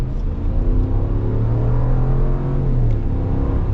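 A 2022 Ram 1500 Country Edition pickup with the 5.7 Hemi V8 accelerating, a loud, steady engine rumble heard from inside the cab with a rising drone that climbs in pitch before shifting down.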